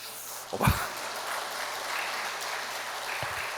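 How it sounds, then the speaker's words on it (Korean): A church congregation breaks into applause during a sermon, a steady moderate wash of clapping that swells after a brief thump near the start and carries on evenly to the end. "제가 3번을 박수를 받아보네요"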